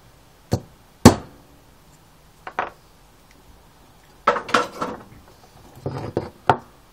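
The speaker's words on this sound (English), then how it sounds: "This little rattle." A small loose part from the carburettor of an SR250 motorcycle rattles and clicks on a hard surface in sharp, separate bursts, a few single taps and then quick clustered rattles, close and clear with no talking.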